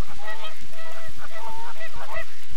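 Canada geese squabble with loud, overlapping honks, a quick burst of harsh calls from several birds close by, with no other sounds over them.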